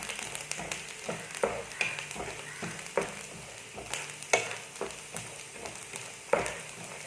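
Bread sits in a hot pan for a banana cutlet, giving a soft, steady sizzle with sharp ticks and light scraping at irregular intervals, quiet and close, with no voices.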